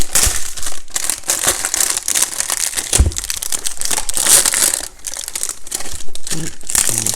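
Plastic packaging on a baseball card box crinkles and crackles as it is pulled open, a continuous close-up rustling with no talking.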